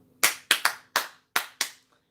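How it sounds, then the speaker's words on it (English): Six sharp, close hand claps in an uneven syncopated pattern from a song, ringing out clearly against near silence. "I just started clapping the clap from the song"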